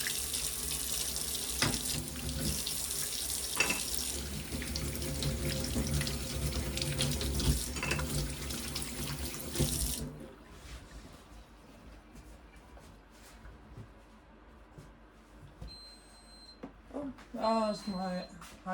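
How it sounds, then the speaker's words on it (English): Tap water running into a kitchen sink while hands are washed, a loud steady gush for about ten seconds that then stops abruptly, followed by quieter room sounds with light clatter and a voice near the end. "I'm just going to wash my hands first"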